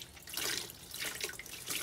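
A buffing pad being rinsed under a running tap, with a steady rush of water splashing into a sink and brief swells as the pad is moved through the stream; no talking.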